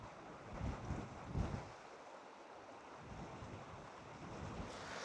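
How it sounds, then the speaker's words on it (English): Wind at an outdoor shooting range rushes and buffets the microphone, making a continuous broad roar that swells near the start and then steadies. "Wir haben nämlich ein bisschen Wind heute."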